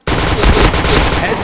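A rapid burst of automatic gunfire erupts in a tactical shooter video game, loud and continuous across the whole stretch with dense, overlapping shots.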